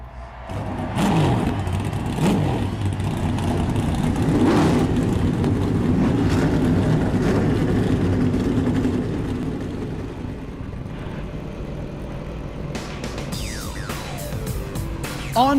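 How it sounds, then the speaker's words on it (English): Stock car engines fire up and rev at Auto Club Speedway in the iRacing video game, a loud, dense roar of many engines swelling and droning before easing off near the end. "gentlemen, start your engines!"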